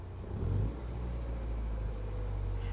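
Low, steady engine rumble inside a Ford Sierra Sapphire cabin from the 80s–90s era, heard from the interior with windows open; the hum is quiet and even, swelling slightly near the start.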